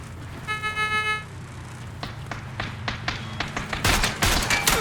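A rapid burst of pistol shots rings out in PUBG, several sharp cracks in quick succession following a brief tonal beep, with louder, denser shots toward the end.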